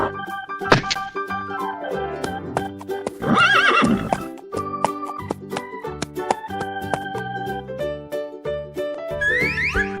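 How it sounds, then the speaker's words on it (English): A cartoon horse neighs loudly in a kids' color-learning video: a long whinny stands out midway, set among hoof clip-clops, thunks and bright musical effects that fill the clip. "Horse."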